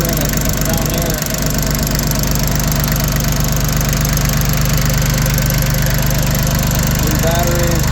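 A Yanmar YM1720D compact tractor's diesel engine runs steadily up close, a dense, even mechanical clatter with a faint knock, and a voice talks briefly over it.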